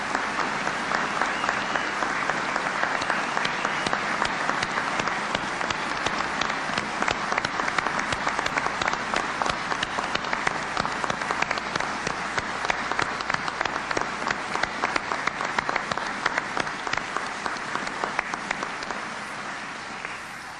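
Sustained, dense applause from a large audience at a 1996 Veterans Day ceremony at Arlington National Cemetery, steady and loud for about twenty seconds before easing slightly at the end.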